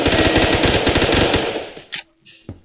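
Rapid machine gun fire in a video game, a dense rattling burst of loud shots lasting over a second and a half, then trailing off with a few scattered sounds.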